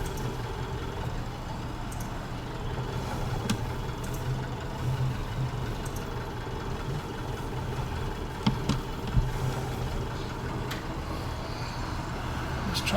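Tractor engine in the Farming Simulator 19 video game running at a steady low drone, a continuous even rumble with a few faint clicks over it and no talk.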